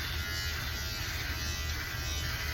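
Conair electric clippers trim facial hair ahead of a shave, a steady close buzzing drone that holds evenly for a couple of seconds with no talking.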